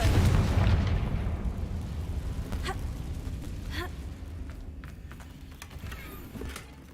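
Confringo explosive spell in the Hogwarts Legacy video game, a loud booming blast at the start that rumbles and slowly fades, with a few faint vocal sounds afterward.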